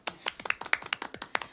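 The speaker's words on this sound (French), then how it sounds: "donc tu as droit également aux applaudissements" Sparse clapping from a small audience welcoming a guest at an evening event, a few pairs of hands beating unevenly and close for a short burst, with no talk over it.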